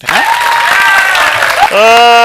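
An audience claps loudly at a birthday celebration on a TV show stage, a brief burst of applause mixed with a raised voice over it.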